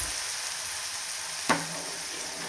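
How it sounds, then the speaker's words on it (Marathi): Tomatoes frying with onions in a pan, a steady close sizzle throughout with one brief clack of a utensil partway. "आता टोमॅटो आहे त्याला आपल्याला छान परतून घ्यायचं"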